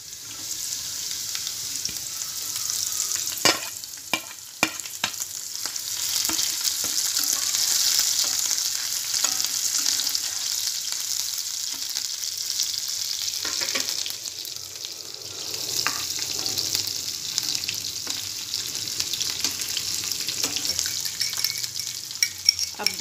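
Green chilies frying with lightly browned onions in a pan for spinach egg bhurji give a steady close sizzle, with a few sharp clicks and scrapes of stirring early on and again midway.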